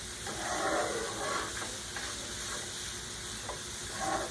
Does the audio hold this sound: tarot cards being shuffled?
no